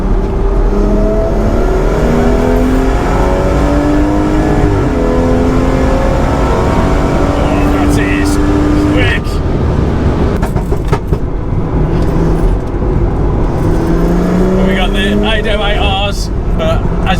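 A tuned 510bhp BMW M240i with a big rear wing, in full manual mode with traction control off, accelerating hard on a race track: loud, sustained engine roar rising through the gears, with brief shift breaks and a voice talking over it.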